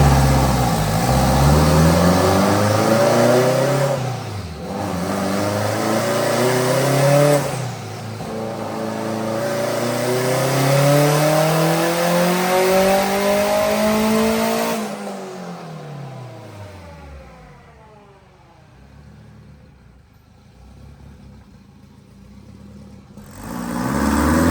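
A sand car engine revs hard on a dyno pull, fitted with an OEM solenoid: a loud, close roar climbs steadily in pitch through repeated surges, then winds down into a falling, fading whine before rising again at the end.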